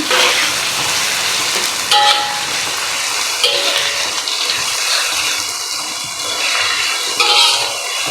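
Onions fry in a pan for a bitter gourd fry, giving a steady, close, dense sizzle with small crackles and brief louder bursts. No voices.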